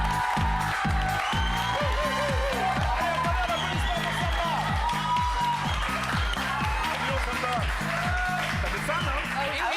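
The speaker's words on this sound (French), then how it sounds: "On l'applaudit très très fort, Samba." Studio audience at a French TV talent show claps and cheers loudly and continuously while a strong, steady music beat runs underneath throughout.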